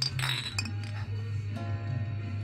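Glasses clink together in a celebratory toast among friends in a film scene, with a few bright, close chinks early on followed by a low steady hum.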